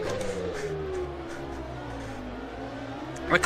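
A Mercedes V10 Formula 1 engine screams at Monaco in a racing video game, its high-pitched note sliding steadily downward as the car slows, then a sharp burst of revving near the end; steady and close, no talk.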